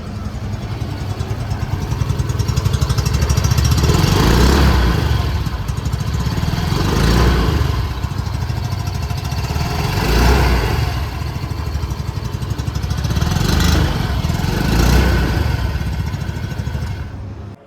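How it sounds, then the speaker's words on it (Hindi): A 2026 Yamaha Fascino 125 hybrid scooter, top TFT variant, runs at a steady loud idle, its exhaust note swelling with occasional gentle throttle blips and fading out at the end. "आइए अभी सुन लेते हैं इस स्कूटर की एग्जॉस्ट नोट।"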